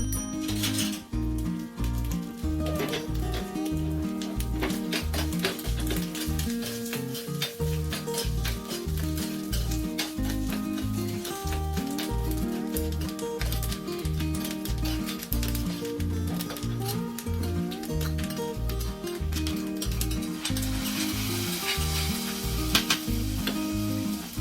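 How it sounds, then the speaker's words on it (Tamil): Steady frying sizzle of chopped coconut in ghee, with rhythmic stirring and scraping in a pan, continuous and close, with no voices. "1 டீஸ்பூன் நெய் ஊற்றி நறுக்கி வச்ச தேங்காயை வந்து நல்லா வறுத்து பொன்னிறம் ஆனோடனே"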